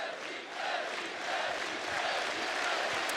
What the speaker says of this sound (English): Crowd is getting pumped.